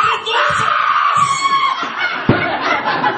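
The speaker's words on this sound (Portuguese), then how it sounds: "nessa hora ele solta um grito" A loud, sustained scream of a voice at close range, trailing off into shouts and snickering laughter from a lively group at a resort recreation activity.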